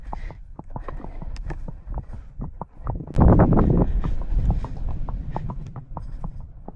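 Gusting wind buffets the microphone on a horse ride through traffic, with a strong surge midway, while the horse's hooves clip-clop in a steady, fairly close rhythm throughout.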